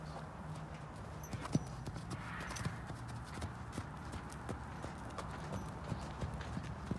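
Hooves of a mare being ridden during a practical riding lesson, a steady run of close clip-clop footfalls over continuous ground noise, with brief voice sounds in the background.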